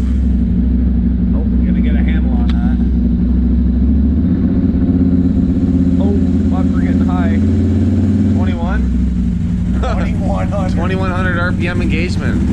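A Ski-Doo Renegade snowmobile fitted with a QSC Rev X primary clutch idles loud and low, then its engine note shifts and rises in a rev, under overlapping talk from people nearby.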